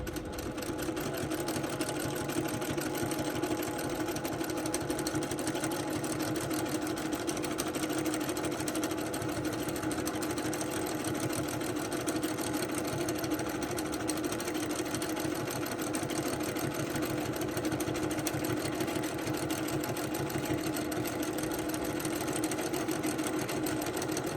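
A sewing machine stitches a free-motion quilted ribbon candy pattern, running steadily and closely miked at an even, busy whir for the whole stretch with no pauses.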